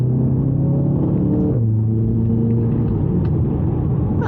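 An Audi TT Quattro on a country lane drops a gear, its engine note jumping mid-clip before a steady, close, rumbling drone continues.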